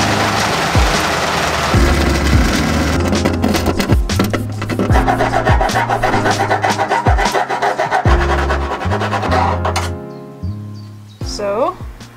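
A large cable hole is cut through a van roof, with harsh rasping and grinding cuts in uneven strokes, loud and close, with clinks near the end, under someone talking throughout.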